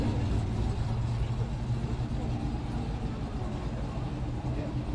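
A supercharged Corvette C8 with a stage 2 cam, Magnuson supercharger and full modified exhaust gives a steady low engine rumble throughout, moderately loud with no sharp revs.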